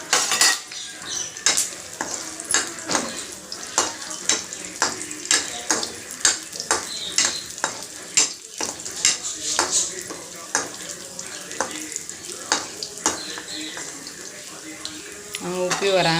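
Black raisins frying in a pan while making Andhra-style sweet semiya, with repeated sharp stirring and scraping against the pan over a continuous sizzle, close and fairly loud, with a voice talking briefly.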